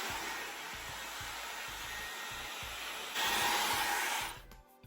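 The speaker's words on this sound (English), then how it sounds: "So get your hair dryer." A hair dryer blowing steadily on hair during a haircut, a close, even whooshing hiss with a low motor hum that turns brighter and louder near the end, then cuts off.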